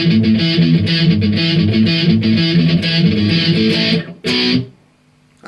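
An electric guitar plays a quick, distorted palm-muted fill from a song in chugging, rhythmic bursts, loud and close, ending with a short final hit and then silence.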